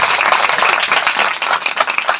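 Church congregation applauding during a service, a dense, steady wash of many hands clapping together that stays fairly loud throughout with no voices standing out.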